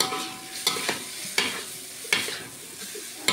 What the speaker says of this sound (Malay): Cuma sekarang kena masukkan mi dan kacau saja.